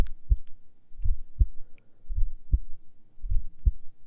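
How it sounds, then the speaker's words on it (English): Heartbeat heard with an ear pressed to a chest, steady lub-dub pairs of soft low thumps repeating about once a second, close and muffled, with no talk. "Can you hear my heartbeat?"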